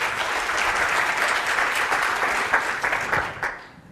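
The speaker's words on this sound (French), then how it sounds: "Applaudissez-vous." A conference audience applauds at length, a dense and steady clapping that fades out at the end.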